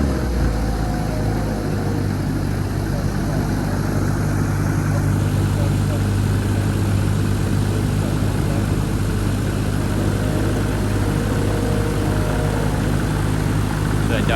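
An aircraft propeller engine runs steadily at 4,500 RPM during dynamic prop balancing, a loud continuous drone with a low, even hum throughout.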